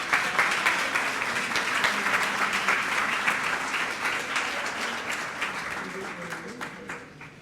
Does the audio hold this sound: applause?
yes